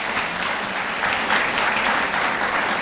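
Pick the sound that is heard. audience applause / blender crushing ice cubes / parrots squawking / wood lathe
audience applause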